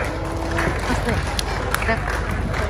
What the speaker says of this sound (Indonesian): Tepuk tangan dulu untuk Kabupaten Bogor.